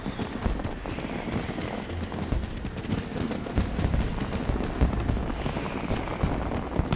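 Rapid crackling pops and bangs of video game fireworks in Final Fantasy XIV burst continuously in a dense, steady barrage, fairly loud throughout with no voices.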